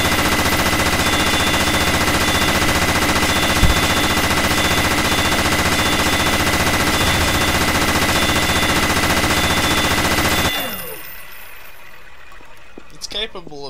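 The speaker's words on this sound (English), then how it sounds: "doing a brief demonstration of this weapon, which is a minigun. It fires pistol bullets, but it does so at a rapid speed" Minigun firing pistol bullets at rapid speed in the video game Garry's Mod, a loud continuous buzzing stream of gunfire for about ten seconds that stops abruptly, followed by faint clinks.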